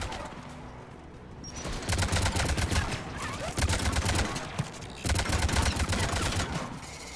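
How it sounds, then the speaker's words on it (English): Anti-aircraft guns fire in a video game battle at Rannoch, with dense bursts of rapid gunfire arriving in three loud waves over a constant rumbling background. "AA guns ahead of us."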